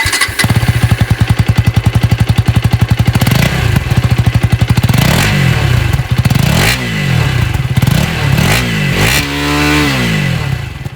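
A 2024 KTM Duke 250 in Atlantic Blue sits close by with its engine running, a steady throbbing idle that breaks into repeated sharp revs, each climbing and falling away, the exhaust rasping loudly with no voices.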